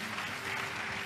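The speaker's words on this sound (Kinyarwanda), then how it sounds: "Reka dukomere umuryango we amashyi." Wedding guests applaud in a steady, dense burst of clapping that fills the short moment at an even loudness, with no voices standing out.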